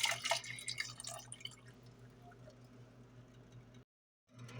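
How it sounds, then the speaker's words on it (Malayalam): Coconut milk, made from coconut milk powder, is poured into a Kerala-style mango curry, giving soft close dripping and trickling liquid sounds that are strongest at first and then thin out, with a low steady hum underneath before a brief silence. "ഇനി 1 ഗ്ലാസോളം തേങ്ങാപ്പാൽ കൂടി ചേർത്ത് കൊടുക്കാം."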